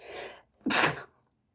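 One sharp human sneeze, a short inhaled build-up followed by a loud burst, close and alone in a quiet room.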